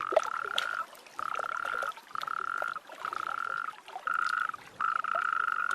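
Frogs at a breeding gathering call in six loud, close, buzzing trills, each lasting under a second with short gaps between, and no voices over them.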